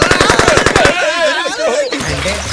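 Rapid machine-gun fire rattles loud and close in a dubbed action film, a quick string of evenly spaced shots that stops after about a second, followed by someone speaking.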